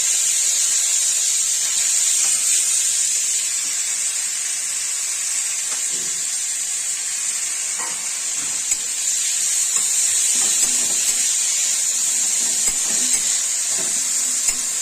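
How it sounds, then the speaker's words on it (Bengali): Mashed pea greens fry in a pan with a steady, bright sizzle and hiss that holds throughout, broken by a few soft stirring scrapes and taps. "এখন চটকানো শাকটা ছেড়ে দিচ্ছি"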